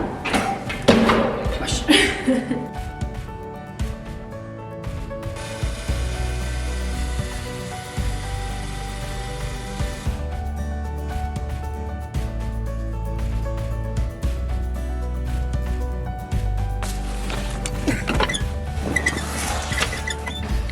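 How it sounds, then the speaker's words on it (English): A floor sander drones with a low, steady hum that rises and falls as it moves across a straw bale house floor, with a person talking and some clattering handling noises. "So we have the sander and we're gonna get this done as quick as possible."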